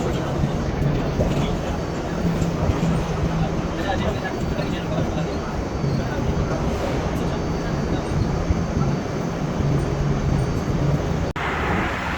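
A metro train rumbles steadily in Islamabad, with a continuous low roar of rail and carriage noise throughout, while people talk faintly underneath.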